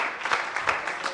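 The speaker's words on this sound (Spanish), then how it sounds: "Puestos de pies y un aplauso fuerte a nuestro Dios." A standing congregation at a Sunday Christian church service claps in praise, a short burst of moderately faint applause with uneven, rhythmic clap peaks.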